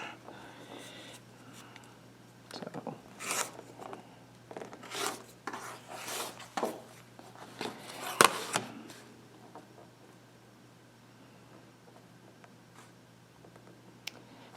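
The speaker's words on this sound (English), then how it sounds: "I'm going to trim my green square down to 2 inches." A green fabric square being trimmed down to 2 inches for a quilt block, heard as a series of soft, close scraping and cutting strokes in irregular bursts, then a sharp click and quieter handling afterward.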